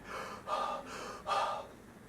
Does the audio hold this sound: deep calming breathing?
yes